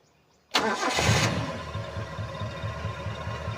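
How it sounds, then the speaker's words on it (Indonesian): A 2004 Suzuki Realvan DRV engine with a racing exhaust cranks and catches abruptly, then settles into a loud, steady idle with a rhythmic low rumble and exhaust throb. "Sekarang tinggal kita cek untuk suaranya. Kita coba starter ya."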